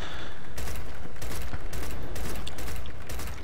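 Rapid bursts of gunfire from Gears of War 4 Horde mode on the Fuel Depot map, loud and dense, with repeated volleys over a steady game background.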